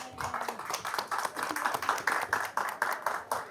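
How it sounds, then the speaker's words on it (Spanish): A seated audience at a panel discussion gives a round of applause welcoming the guests; hand claps come in steady, rhythmic bursts at moderate loudness with no talking over them. "me gustaría que los recibamos con fuertes aplausos"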